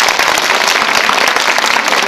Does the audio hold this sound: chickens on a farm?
no